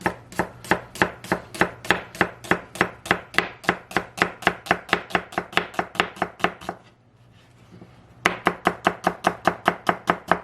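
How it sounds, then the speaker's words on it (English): A knife slices through a small red onion on a cutting board in quick, regular chops, close and crisp, pausing for about a second before the rhythmic cutting resumes. "all I have to do with this onion is slice it."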